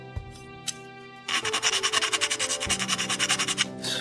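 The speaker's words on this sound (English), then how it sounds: "Just filing down those nubs a little bit." A file scrapes rapidly back and forth over the nubs of a plastic Bandai Perfect Grade Zaku II model kit part, about twenty quick rhythmic close strokes after a few soft clicks, with no talk.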